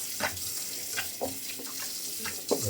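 Homemade butter made from cream is rinsed under a running tap, with a steady hiss of flowing water and occasional soft splashes and squelches as the butter is worked by hand.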